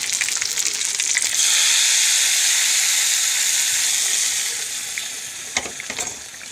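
Hot tempering with curry leaves is poured into a dried prawn and mango curry, setting off a loud, steady sizzle that slowly subsides, followed by a few soft clinks.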